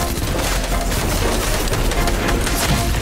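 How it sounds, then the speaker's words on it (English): Rapid SMG fire in the video game Fortnite crackles loudly and continuously for about three seconds, a dense unbroken burst of shots mixed with booming game effects and no talk. "I hate this SMG so much."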